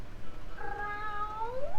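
A cat gives a single drawn-out, wavering meow in the anime Yu Yu Hakusho, rising and falling over about a second, clear and close above a low background hum.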